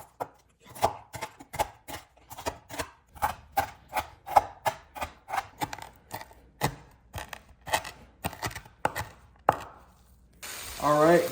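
A knife chops through hot, crisp bacon fresh from an air fryer on a cutting board: a steady run of sharp, close knocks at a brisk rhythm for about ten seconds, then a brief pause and a louder burst of scraping or sizzling.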